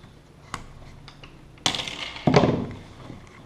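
Wires for a handmade notebook are snipped, giving a few sharp isolated clicks and crisp cuts against a quiet background, the last two louder and closer together.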